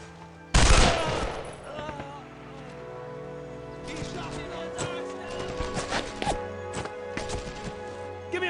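Gunfire in the World War II shooter Brothers in Arms: one loud, close blast opens the clip, then a steady crackle of rifle and machine-gun shots trails off in the distance while soldiers' voices call out over the battle.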